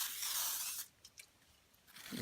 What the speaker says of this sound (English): spray it down with WD-40